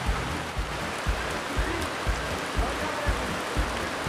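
Heavy rain pours down in a steady, loud wash close by, with faint regular low thumps underneath and no talking.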